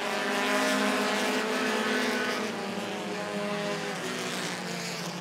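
Bandit-class stock cars roar around the Rockford Speedway oval in a dense, sustained engine drone, several cars blending together and fading slightly as they pass.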